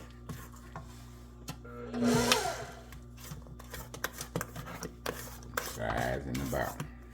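Batter for a banana nut loaf is mixed and scraped down around the sides and bottom of a bowl, giving close, uneven scraping and clinking against the bowl, with a louder rubbing stretch near the start and softer scrapes after it.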